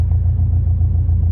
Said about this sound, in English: Audi just passed with a supercharger